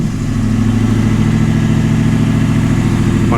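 A 2011 Crown Victoria with a newly adjusted rear suspension runs loudly at a steady, close rumble, its low engine drone holding constant without any voices.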